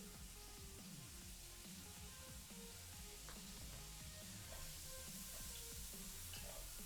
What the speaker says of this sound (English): Oh, I can hear that sizzle.